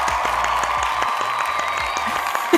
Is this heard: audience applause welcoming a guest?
yes